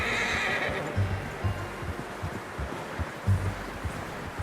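A horse in Red Dead Redemption 2 lets out a loud whinny at the start, then hooves clip-clop in an uneven rhythm over a windy outdoor background.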